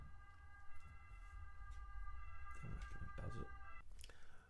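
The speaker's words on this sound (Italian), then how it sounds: "passata un'ambulanza" Ambulance siren passing in the distance, heard as faint sustained wailing tones that fade out, under quiet background noise with a few louder thumps and no clear talking.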